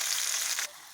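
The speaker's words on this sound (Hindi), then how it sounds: "ये देखिए हमारा तड़का लग रहा है साग में छौंकने के लिए।" Hot asafoetida tempering sizzles loudly into mustard greens saag, a dense close crackling hiss that suddenly drops to near quiet.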